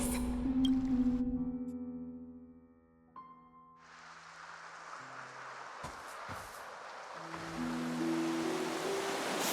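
Ocean waves in Honkai Star Rail, a broad rushing surf wash swelling in after a fading musical tone, continuing under soft sustained music.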